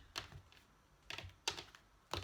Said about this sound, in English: I'm currently shuffling with the Radiant Rider-Waite tarot deck today